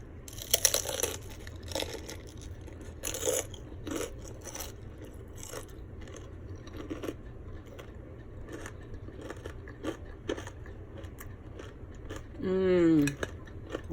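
Close, crisp crunching bites of a homemade fried chicken flauta topped with Mexican crema, scattered through a quiet stretch with a brief vocal sound near the end.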